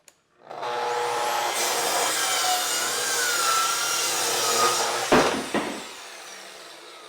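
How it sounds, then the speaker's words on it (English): A power saw rips through a wooden stair stringer during an 1884 house renovation, a loud sustained whining cut lasting several seconds before the blade stops with a couple of knocks. "we're just making the last cut on this stringer"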